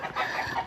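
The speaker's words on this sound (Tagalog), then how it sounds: "mga manok na pang-atari" Fighting roosters raised for cockfighting cluck in a rural farmyard in Romblon, a brief close burst of throaty calls with no talk.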